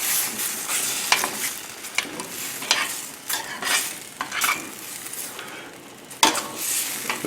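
Mushrooms and green beans fry in a pan with a lively sizzle, broken by repeated scraping strokes of a utensil stirring the vegetables, loud and close.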